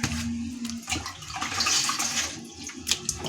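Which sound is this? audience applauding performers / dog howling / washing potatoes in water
washing potatoes in water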